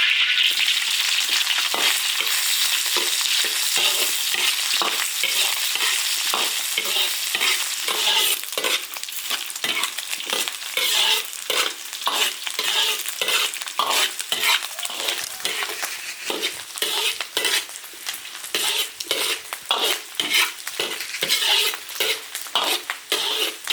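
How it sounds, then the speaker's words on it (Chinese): Cured pork is stir-fried in an iron wok, a loud close sizzle punctuated by a steady rhythm of spatula scrapes and clanks against the metal, with no talk. "首先把腊肉煸炒下"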